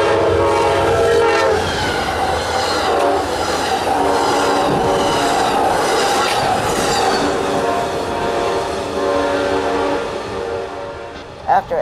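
Amtrak passenger train led by a single P40 locomotive passes on the Chicago line at Chesterton, Indiana, with a loud horn blast and rumbling, clattering wheels close by, the noise fading toward the end.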